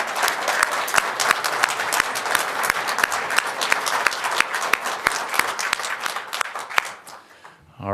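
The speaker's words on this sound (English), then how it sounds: "we all just want to give you a big round of applause on a wonderful season" Audience applause at the Lott IMPACT Trophy award presentation for a football team on its season, a dense steady roar of many hands with sharp individual claps, fading out near the end.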